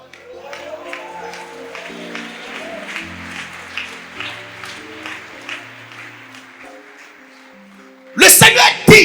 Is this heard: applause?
yes